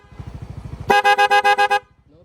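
A Corsa horn fitted to a Yamaha Mio Gear 125 motorcycle sounds in rapid mode: seven quick, loud, evenly spaced honks in a burst of under a second, following a low idling engine putter.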